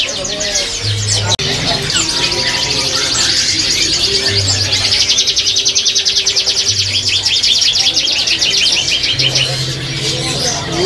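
Caged songbirds, including canaries, chirp and trill loudly and steadily throughout, with rapid repeated twittering and a few louder notes over a low hum.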